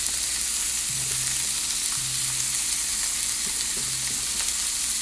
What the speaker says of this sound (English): All right, so shrimp is gonna saute.